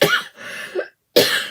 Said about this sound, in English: There goes that morning cough.